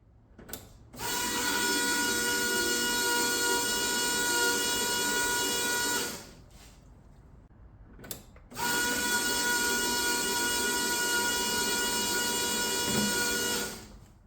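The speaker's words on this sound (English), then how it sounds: "we'll pump some fuel through the feed line, clean all that out" Electric fuel pump pushing fuel through a car's feed line during a fuel system upgrade on a Ford XG ute. It gives a steady, loud mechanical whir in two bursts of about five seconds each, separated by a short pause, with no talking.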